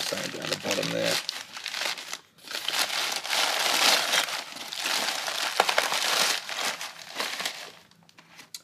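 Sheets of paper crinkle and crunch as they are pushed into a bicycle frame to protect it for airline travel, a near, steady run of crackling that ends in a short lull.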